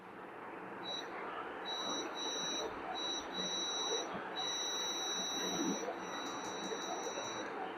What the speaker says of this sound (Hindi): मैंने ग्राउंड रखा और मीटर बजर पे है।